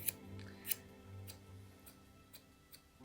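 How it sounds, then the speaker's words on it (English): Scissors snipping through a hair extension, a few sharp, close, quiet clicks spaced irregularly over a soft background hiss. "I'm gonna cut off a bigger chunk now."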